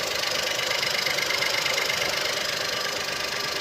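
A Geely Coolray 1.5L engine runs at idle with a dual mass clutch flywheel fault, giving a steady close rattling, knocking drone that holds even throughout.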